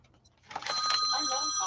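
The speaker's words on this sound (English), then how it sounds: "Sorry everyone, my phone." A mobile phone rings with a steady electronic ringtone starting after a brief near-silence, loud and continuous to the end with no talk over it.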